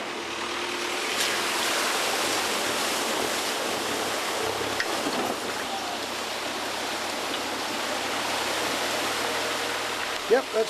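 A vehicle fords a creek crossing in dense forest on the way to the Cape York tip, with a continuous rushing wash of water splashing around it, steady and fairly loud, with a couple of sharp knocks near the end.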